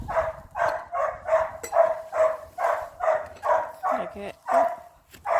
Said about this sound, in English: I got plenty of dogs, which is really noisy.